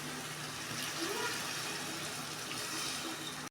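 Water is poured steadily into rice for chicken biryani, 8.5 glasses of water for 4 glasses of rice, making a soft, continuous gushing that runs for several seconds before stopping abruptly.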